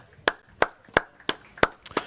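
A handful of people in the crowd at a Hobie kayak fishing tournament weigh-in clap in a quick, uneven burst of about seven sharp claps, close and clear.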